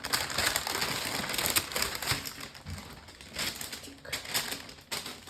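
Crinkly plastic packaging from a craft supplies parcel rustles and crackles continuously up close, with bursts of crumpling and tearing.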